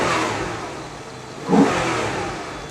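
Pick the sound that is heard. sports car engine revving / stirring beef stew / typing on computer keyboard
sports car engine revving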